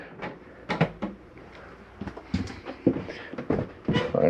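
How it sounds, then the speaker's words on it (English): Door of a 2019 Mesa Ridge 371MB RV being closed, a series of sharp knocks, clunks and latch clicks close by, irregularly spaced over a few seconds. "the door back closed here"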